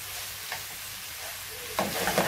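Chicken and eggplant curry ingredients frying in a pan over low heat, a soft steady sizzle with stirring scrapes that swells louder near the end.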